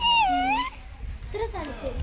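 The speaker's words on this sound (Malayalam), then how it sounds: "Bengal cat. Hello Bengal cat സുഖല്ലേ?" A Bengal cat gives two drawn-out, wavering meows close by, the first loud and sliding in pitch, the second after a short pause, over a low background rumble.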